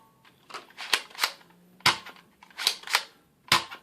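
A Nerf Zombie Strike Sidestrike dart blaster fires in a run of sharp plastic snaps and clacks, about eight crisp bursts in irregular rhythm, close and fairly loud, with no talking.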